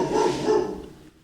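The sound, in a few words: dog barking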